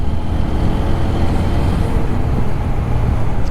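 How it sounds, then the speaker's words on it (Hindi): A motorcycle engine labours under load on a busy road during a solo ride from Haridwar toward Badrinath, giving a loud, close, steady rumble that fills the whole stretch with no talking. "बहुत ही बेकार आवाज़ आ रही है। ऐसे लग रहा है कि बिल्कुल गाड़ी लोड मान रही हो।"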